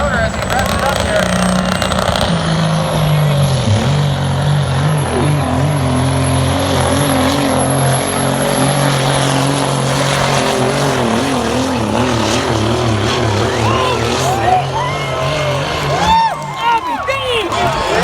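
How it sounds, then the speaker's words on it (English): A semi truck at a tractor pull revs its engine hard, a loud sustained roar with shifting pitch and droning harmonics, while an announcer talks over it and crowd noise fills the background. "Just listen to that motor as he revs it up here."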